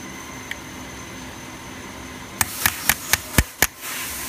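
Hammer tapping a chasing tool against a metal thumb latch button, six sharp, solid metallic thunks in a quick steady rhythm, close and loud over a constant room hiss and hum.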